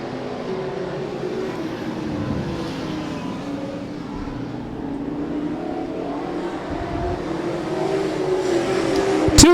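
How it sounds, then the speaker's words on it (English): Four late model race cars run a heat race at Claremont Motorsports Park, their engines a steady, distant roar that swells toward the end as they come closer. "Four late models out there right now, competing for 8 laps in this heat race."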